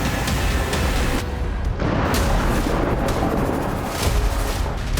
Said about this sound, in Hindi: रूस के स्कॉर्पियन रोबोट इस तरह से यूक्रेनी ठिकानों और ट्रेंचेस में जाकर विस्फोट कर रहा है